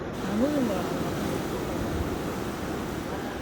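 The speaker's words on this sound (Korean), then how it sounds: "뒤에는 파도가 저렇게 치고 있는데" Continuous surf rolls and crashes on the coast at Pohang, South Korea, in a dense wash of noise, with a brief bird-like whistle early on.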